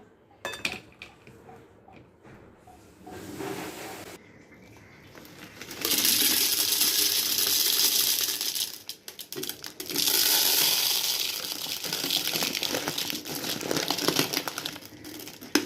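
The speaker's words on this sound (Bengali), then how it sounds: "চিনি ঢেলে নিলাম" Sugar being poured into a container while refilling kitchen jars, a loud continuous granular rush in two long pours with rattling and clinking around them, no talk.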